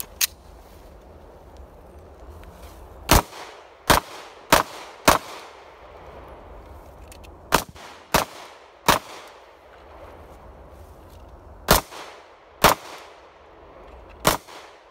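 Avidity Arms PD10 pistol test firing: about a dozen sharp gunshots in uneven groups and singles, each with a short echo over a quiet outdoor background.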